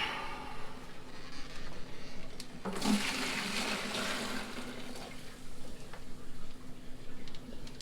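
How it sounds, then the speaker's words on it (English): Water drains out of a Pax Bellum ARID C30 algae reactor in a steady, rushing gurgle that swells abruptly partway through and continues, with faint ticking in the background. "we're going to just empty the water out of here"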